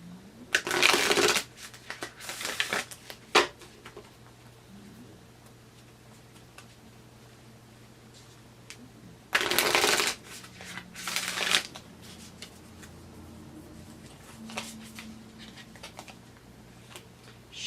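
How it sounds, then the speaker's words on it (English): Bursts of tarot and oracle card shuffling, riffling in short loud flurries separated by long quiet stretches with faint ticking. "So let's pull some oracle cards here"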